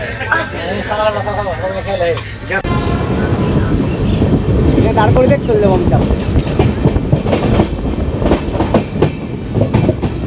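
An Amrit Bharat Express train rolls into Bardhaman Junction with a steady, loud rumble of wheels and clattering coaches, while a voice talks briefly over it near the start.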